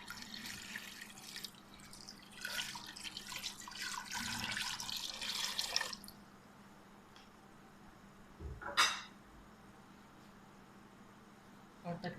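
Water pours into a pressure cooker holding mutton for pulao, a soft splashing stream for several seconds that then stops, followed by a brief clatter in a quiet kitchen.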